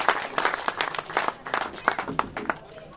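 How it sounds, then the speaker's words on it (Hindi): Audience applause fills a hall welcoming a speaker to the stage at a Srinagar temple event, dense clapping with irregular peaks over about three seconds, fairly near and steady. "जोरदार तालियों से स्वागत करिए।"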